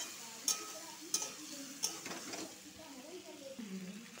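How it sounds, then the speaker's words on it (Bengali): Vegetables fry with spice paste, sizzling in a pan while a utensil knocks against it three times in quick, sharp taps, followed by stirring. "এই মশলাগুলোর সাথে আবার ভালো করে ভেজে নিব সবজিটা।"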